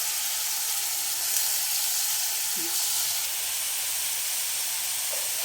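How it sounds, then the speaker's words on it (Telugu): Ground ginger, garlic and onion masala frying in a pan on low heat gives a steady, even hiss and sizzle, close and unbroken, with no talk. "వాటిని ఈ దీంట్లో వేసి సిమ్లో పెట్టుకొని వేయించుకోవాలి."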